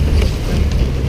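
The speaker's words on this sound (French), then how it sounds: "Le vent est revenu" Wind rushes over a Mini Transat racing sailboat at sea, a brief low buffeting roar with gusty microphone rumble and hull and water noise, loud and close.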